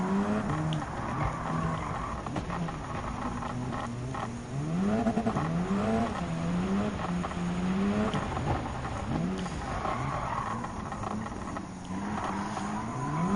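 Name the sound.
Gr.B rally cars racing in the video game Gran Turismo 7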